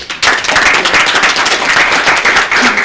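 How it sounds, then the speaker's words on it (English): A round of applause at a city commission meeting in Palatka, dense hand clapping from a room of people, fairly loud and steady for about three seconds after a brief quieter start. "So we definitely give you a round of applause."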